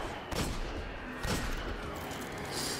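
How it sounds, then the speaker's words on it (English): The Fatebringer hand cannon fires in Destiny with heavy, booming shots, two clear blasts about a second apart over dense, noisy combat. "This gun is the Fatebringer, for all you that don't know. Best hand cannon in the game"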